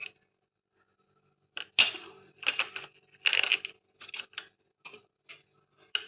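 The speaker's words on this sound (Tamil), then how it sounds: "இது எல்லாத்தையும் இந்த நெய்யில் போட்டு வறுத்துடலாம்." Almonds, seeds, cardamom and cashews tipped into hot ghee in a pan for papaya halwa, landing as a scattered run of small sharp clicks and clinks, close and fairly quiet, with no voices.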